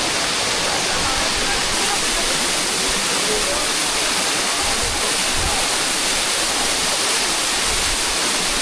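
A waterfall in Bali roars as a loud, steady wash of falling water, close by and unbroken, with no voices over it.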